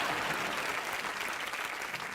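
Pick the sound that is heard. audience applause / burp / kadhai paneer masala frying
audience applause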